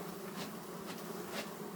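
Dense, continuous buzzing of many honey bees close by at a hive during a honey harvest, a steady hum with faint swells as individual insects pass.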